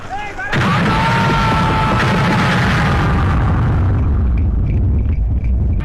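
A loud firecracker blast sets off a dense, sustained roar of crackling explosions, with a whistling rocket rising through it and popping trails fading at the end.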